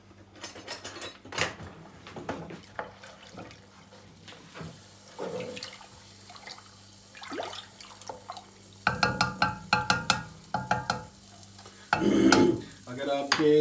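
Spices with red chili powder stirred into black chickpeas in a pan for a kala chana curry, the spoon scraping in bursts with a soft sizzle and drips, growing louder and busier toward the end.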